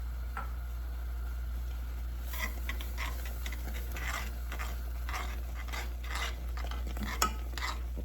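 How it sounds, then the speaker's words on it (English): Spoon stirring shredded cheese into potatoes in a hot pan, giving soft, irregular scraping and sticky squelching strokes over a low, steady background hum, fairly quiet, with no talking. "Keep stirring it until it's well combined"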